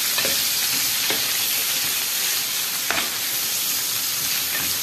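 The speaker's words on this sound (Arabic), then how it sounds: "اول ما احس ان الطاسه سخنت معايا هبتدي بقى اقلب بالحبه اللي نزلتهم." Lamb liver and offal stir-fry in a hot pan, giving a loud, constant sizzle with a few faint scrapes of stirring and no voices.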